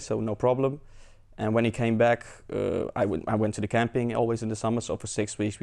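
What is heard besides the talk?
No everyday noises stand out.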